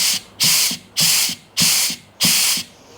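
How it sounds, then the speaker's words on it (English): Compressed air blasts through a hard plastic air nozzle into a BMW X5 ZF 5HP24 automatic transmission, five loud evenly spaced hissing bursts about half a second long each, close up. "there's a ton of air coming out of there"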